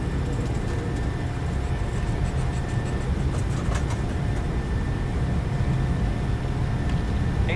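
Airliner engines spooling on the takeoff roll in Microsoft Flight Simulator 2020, a loud, constant low roar with steady rumble and a thin whine above, unbroken and close.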